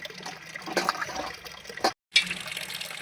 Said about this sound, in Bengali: আমার মা এখানে মাছগুলো ধুয়ে নিচ্ছে, আর আমার বোন কল চেপে দিচ্ছে